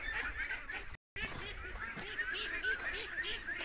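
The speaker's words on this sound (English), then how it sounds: "A lot of pent-up ducks that want out bad." Penned ducks crowd noisily together, their quacks and honking calls overlapping in a steady nearby chatter; a brief silent gap breaks it early on.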